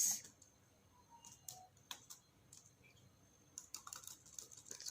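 Computer keyboard being typed on while composing a letter, heard as faint, close key clicks coming in irregular bursts with short pauses between them.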